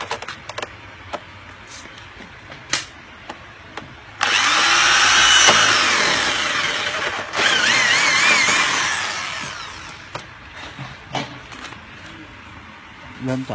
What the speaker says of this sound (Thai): วิธียึดก็คือเจาะตรงนี้นะครับ